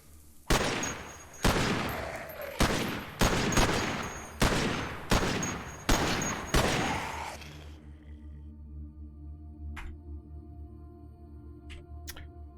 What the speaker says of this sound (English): That was a whole lot of shooting.